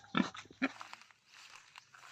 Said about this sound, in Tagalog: May nadaanan din kaming baboyan guys.